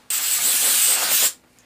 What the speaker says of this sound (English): You guys fucking spraying Raid down here?